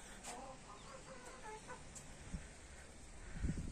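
Several country chickens cluck softly nearby in an open terrace space, with a few sharper clucks and a brief rustle or bump toward the end.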